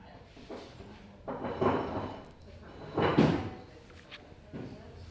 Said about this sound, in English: I'm just going to open up the door.